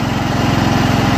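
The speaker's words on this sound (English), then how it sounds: "Sometimes it runs really good, but on middle choke," Kohler Command 14HP engine on a Troy-Bilt Suburban riding mower, running steadily at middle choke and throttle with an even rapid putter, close and continuous, with an ignition problem suspected.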